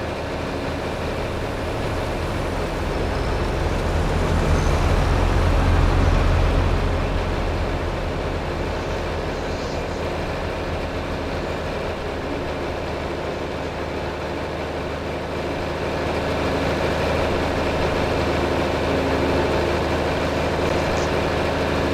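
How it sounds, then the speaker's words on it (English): A tractor engine in the Farming Simulator 25 video game runs at a steady low rumble throughout, swelling briefly louder near the start and easing back to an even drone. "let's go ahead and see what we can manage to do with this tractor"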